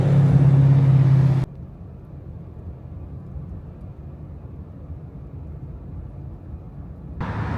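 A car drives toward Biltmore Village in Asheville, North Carolina, with a steady low road rumble and engine hum from inside the vehicle, louder at the start and again at the end.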